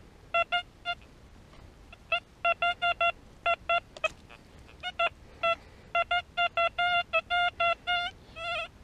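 A metal detector sweeping a field sounds off in a run of short, clear electronic beeps with uneven gaps, fairly close and loud over quiet outdoor background.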